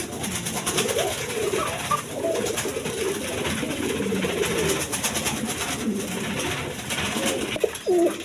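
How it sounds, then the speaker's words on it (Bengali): Big red Gola pigeons cooing steadily in a loft, repeated soft throaty coos overlapping at close range against a faint background hiss. "দেখেন রেড কালার গররা কবুতর গররা একদম বিগ সাইজের দেখার মতো কবুতর"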